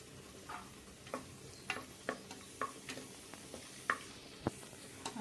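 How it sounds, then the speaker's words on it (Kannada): Cashew nuts frying lightly in a pan for a biryani garnish, giving soft scattered crackles and taps from stirring, fairly quiet, with no voices. "ಗೋಡಂಬಿ ಕೂಡ ಒಂದು ಸ್ವಲ್ಪ ಹಾಕ್ಕೊಂಡು ಸ್ವಲ್ಪ ಫ್ರೈ ಮಾಡ್ಕೊಂಡ್ಬಿಡ್ತೀನಿ"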